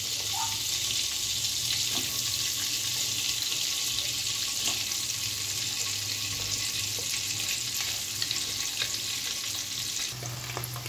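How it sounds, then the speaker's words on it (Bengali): Paneer cubes and cashews fry in melted butter in a pan, a steady close sizzle running unbroken throughout with faint stirring scrapes and no talking. "আমি পনিরগুলো সাইড দিয়ে দিয়ে ফ্রাই করে নিচ্ছি"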